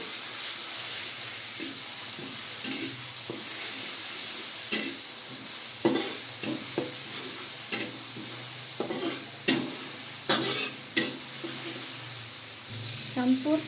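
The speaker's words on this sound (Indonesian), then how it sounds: "kita tumis sampai wangi" Spices are stir-fried in a pan while cooking sambal and curry, with a continuous sizzle broken by repeated scraping knocks of the stirring utensil at close range.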